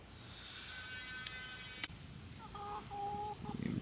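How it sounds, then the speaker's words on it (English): Chickens cluck and squawk quietly in the background at a rural spot, a few short calls over a low, steady ambient hum. "Chickens."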